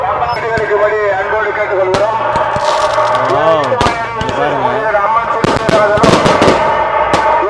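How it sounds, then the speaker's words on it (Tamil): Firecrackers crackle and pop in rapid bursts, with a loud sharp bang now and then, over a constant noisy background of crowd sound at the Gangaiamman temple festival in Poigai Mottur, Tamil Nadu. "தரமான வெடிங்க"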